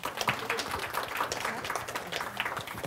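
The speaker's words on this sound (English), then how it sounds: "Let's welcome her with a big round of applause." An audience at a public health equity event claps to welcome a speaker, a dense patter of many hands that is steady and moderately loud throughout and has no voices over it.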